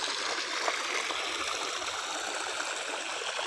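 Irrigation water pours steadily into a freshly transplanted rice paddy, a continuous close rushing and trickling flow with no break and no voices.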